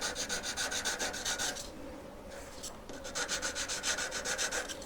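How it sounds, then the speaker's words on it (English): A buff stick worked by hand up and down the claws of a metal collet, giving rapid, steady scratchy rubbing strokes that pause briefly midway and then resume, close and fairly quiet. "I like doing it with a corner of a buff stick. You can just go right up and down a claw."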